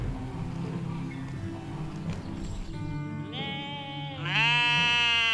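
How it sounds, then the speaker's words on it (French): Black Ouessant sheep bleat in a roomy park enclosure, with a couple of wavering bleats standing out, the last one loud and close, over a low background rumble. "L'enclos des moutons noirs d'Ouessant est vaste."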